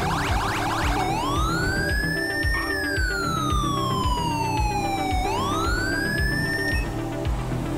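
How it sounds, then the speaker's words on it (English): A loud electronic police siren in the video game GTA V with the LSPDFR mod wails continuously, sweeping up and down in long slow glides over a steady low engine rumble. "I'm using a Zenergy siren, so it's something a little different."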